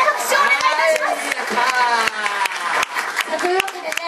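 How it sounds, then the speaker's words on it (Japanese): A live crowd at a public event applauds two performers after a contest, a dense spread of clapping with scattered cheers and voices mixed in, steady and fairly close throughout. "真剣勝負を終えた2人に大きな拍手をお願いいたします"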